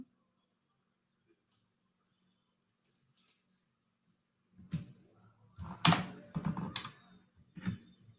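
Fingers tap on a computer keyboard during a software demo, a few isolated clicks at first, then a close, quick run of uneven keystrokes with short gaps.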